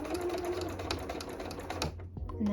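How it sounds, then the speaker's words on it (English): A sewing machine runs in a steady whirring stitch across the bottom of an elastic waistband on a skirt, fairly close, then stops briefly before a short restart. "I will stitch across the bottom"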